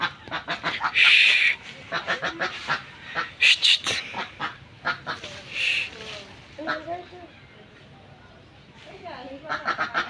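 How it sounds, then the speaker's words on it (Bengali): Frightened domestic ducks give loud, rapid bursts of honking quacks close by at a backyard duck pool. The calls come in clustered volleys with short pauses, and a person talks over them. "দেখেন হাঁসগুলো এখন ভয় পাই যাচ্ছে।"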